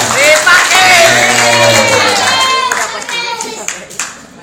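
Audience clapping at an Islamic religious study gathering, a dense patter of hands with voices and someone talking over it, fairly loud and close, thinning toward the end.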